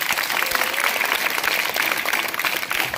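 An audience at a school event for International Birds Day claps loudly and steadily, dense continuous applause filling the room for the whole stretch.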